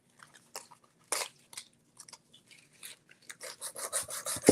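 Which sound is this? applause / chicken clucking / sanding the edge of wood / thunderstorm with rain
sanding the edge of wood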